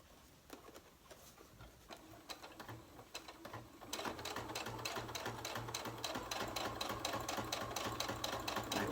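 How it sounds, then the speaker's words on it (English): Sewing machine stitching through a paper file folder. It runs slowly with short bursts at first, then settles into a steady, faster mechanical rattle, close and alone. "If you go real slow, you're able to make that turn pretty nicely. But sometimes you might have to pick up your foot pedal"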